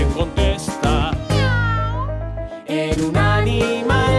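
A voice playfully imitates a cat, giving a long drawn-out meow between shorter sung or spoken syllables, loud and close.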